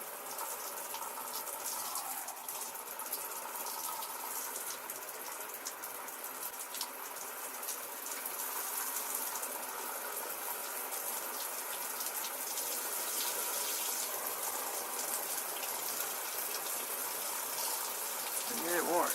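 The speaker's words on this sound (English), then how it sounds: "Let's get the hot water going." Hot water runs steadily from a tap to fill a pet's bath, a continuous close splashing rush that lasts throughout without pause.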